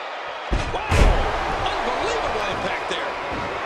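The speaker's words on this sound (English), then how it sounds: "Then he came down hard from that back body drop." A wrestler crashes hard onto the mat after a back body drop in WWE 2K14: a heavy thud, then a second louder slam a moment later, over steady arena crowd noise.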